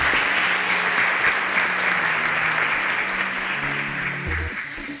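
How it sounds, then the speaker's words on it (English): A studio audience claps steadily for a departing contestant, dense sustained applause filling the room at even loudness before tapering slightly at the end. "Round of applause for Emeka as he exits."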